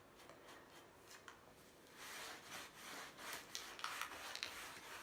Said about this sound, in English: Rubbing off the excess, making sure there's no pooling, especially on the top of this crest rail